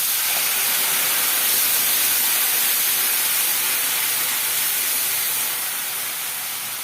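Water hitting a hot pan of garlic for a Bengali small-carp curry, a loud, steady hiss of steam and sizzle that holds for several seconds and eases slightly toward the end, with no talking.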